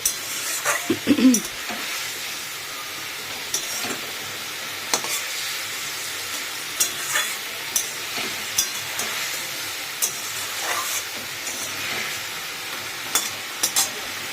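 Oil sizzles steadily in a pan while a fish curry with stalks and potatoes cooks, with occasional close stirring clacks over the continuous hiss; no talking.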